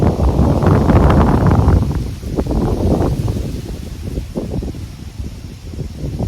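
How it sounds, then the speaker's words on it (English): Steady wind buffets the microphone in gusts, with faint rustling beneath, loudest at the start and easing slightly later. "It's a little bit windy."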